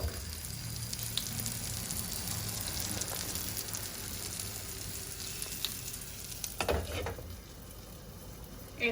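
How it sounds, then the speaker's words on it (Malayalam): Mango snack frying in a pan, a steady close sizzle running throughout with a few brief clatters of stirring or turning near the end. "ഇതിനെ ഫ്രൈ ചെയ്യണം."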